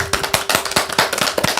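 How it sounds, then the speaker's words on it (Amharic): One person claps quickly and steadily close by, about ten crisp claps in a row at a brisk even pace, with a faint steady hum underneath and no speech. "ለሞራል ለራስሽም አጨብጭቢ"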